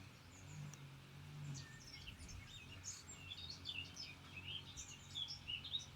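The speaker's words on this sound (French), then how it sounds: "Écoutez l'oiseau qui chante," Birds singing outdoors on a breezy lawn: faint, scattered high chirps and short trills that come and go throughout, with a soft low rumble of wind underneath.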